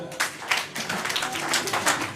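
Scattered clapping from a church congregation, uneven and overlapping, with voices murmuring underneath.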